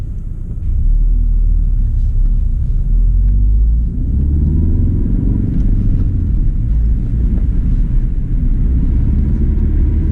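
A Ford Focus RS in track mode driving on a snow-covered road gives off a loud, steady low engine rumble from inside the car, with no talking.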